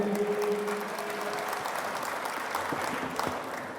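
Audience at an international Urdu mushaira in Muscat, Oman applauding to welcome a poet, a steady dense clapping from a crowd that holds evenly for several seconds.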